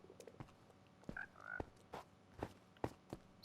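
Frogs in the Minecraft video game give a series of soft croaks and hops at a steady pace, a few clicks and chirps mixed in, with no talking over them.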